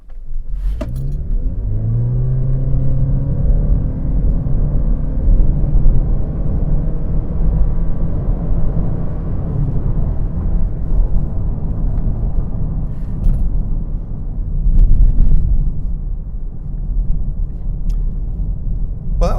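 A Lexus IS with a CVT gearbox accelerates hard from inside the cabin, its engine a loud, sustained drone that rises early and then holds a steady pitch without any gear changes, swelling again near the end.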